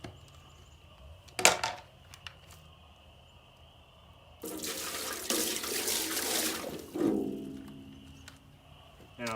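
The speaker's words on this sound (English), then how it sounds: "I'll give everything a little bit of water." Tap water runs while maple syrup making equipment is rinsed. A brief splash comes first, then a steady, fairly loud stream lasts several seconds before easing off, with no talking.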